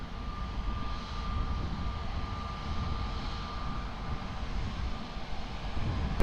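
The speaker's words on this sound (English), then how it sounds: "Portugal 129er, wind 240 degrees, 7 knots, runway 20, clear to land." An airliner comes in to land at Lisbon Airport, its engines giving a steady, moderately loud drone with a faint tonal whine that holds evenly throughout.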